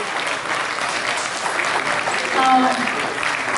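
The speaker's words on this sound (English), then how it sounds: "So please, one big applaud to all my friends." Wedding guests applaud a group of friends, a steady wash of clapping from a roomful of people with a slight swell near the end, and a voice or two faintly present beneath it.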